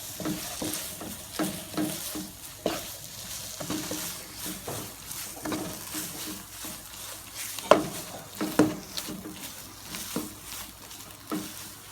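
Thinly sliced pork stir-fries in a pan for Thai panang curry, a close, continuous sizzle broken by frequent scraping and clattering stirs throughout.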